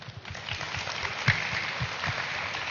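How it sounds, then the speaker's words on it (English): An audience at a youth festival gives a round of applause, a soft, diffuse clapping bed with faint voices and murmurs mixed in, one brief louder accent partway through. "warm round of applause."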